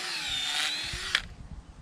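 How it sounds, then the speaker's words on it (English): Power drill with a bit pre-drilling holes in pasture dirt for electric fence posts, a steady whirring whine for about a second that stops with a sharp click, followed by fainter low rustling and thumps. "Pre-drilling the dirt."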